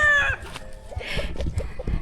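Chickens cluck in a series of short, close calls. A longer crow-like call opens the clip, and scuffling noises mix in.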